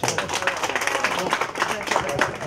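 An audience gives a guest speaker another round of applause at a gathering of Salvadoran compatriots in New York, steady dense clapping from a crowd throughout, moderately loud and close.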